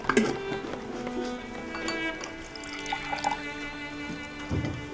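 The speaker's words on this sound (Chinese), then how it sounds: "为啥给我倒水呀？" Water is poured into a glass at a small celebratory drink, heard as a light trickle with a few drips. Background music plays throughout.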